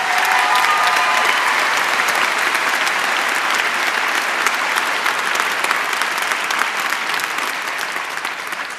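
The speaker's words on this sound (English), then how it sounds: "You deserve a second round of applause, all three of you." Sustained audience applause at a nursing school commencement ceremony, a large crowd clapping steadily and loudly for close to nine seconds with no talking over it, tapering slightly at the end.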